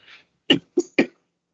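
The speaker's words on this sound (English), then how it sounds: "So I'm going to cough, sorry." A short breath followed by three quick, close coughs in a row, then silence.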